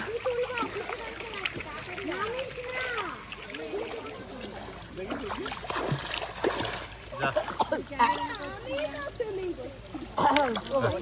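A swimmer splashes through a busy hotel pool surrounded by trees, with steady water sloshing and splatter throughout. Voices talk over the splashing, and a child can be heard among them.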